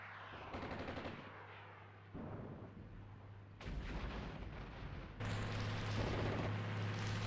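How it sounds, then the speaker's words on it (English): Gunfire from an infantry squad under fire in Armored Brigade 2, heard as repeated bursts of rapid small-arms and machine-gun shots in separate volleys that grow louder and denser toward the end, with no voices. "Infantry squad up here, taking fire."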